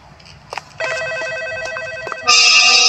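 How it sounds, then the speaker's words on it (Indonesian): A telephone in a Roblox horror game rings with a bright electronic trill after a couple of short clicks, then jumps to a louder, sharper ring near the end, close and alone. "Ada telepon lagi."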